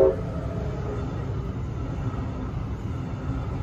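A Brightline passenger train rolls past near a road in Tequesta, a steady low rumble and rushing noise heard from inside a moving car, with no talk.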